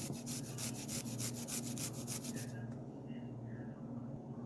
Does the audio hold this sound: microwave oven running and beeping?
no